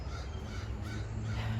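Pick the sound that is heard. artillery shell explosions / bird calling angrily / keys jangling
bird calling angrily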